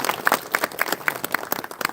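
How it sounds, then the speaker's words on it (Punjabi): Applause for children at a home gathering in Punjab: a short burst of hand clapping from a small group, close and uneven, with overlapping claps at a lively rhythm. "ਤਾੜੀਆਂ ਵੀ ਬੱਚਿਆਂ ਵਾਸਤੇ"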